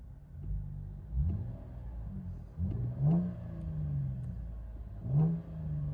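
A 2012 Chevy Camaro RS V6 with dual Flowmaster race exhaust, heard from inside the car, gives several deep revving pulls that rise and fall over a low rumbling idle.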